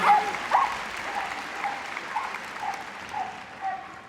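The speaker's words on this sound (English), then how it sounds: "Give them a round of applause, at any rate." Sustained crowd applause at an indoor dog agility event, a steady dense patter of clapping with a few yips from a dog rising above it.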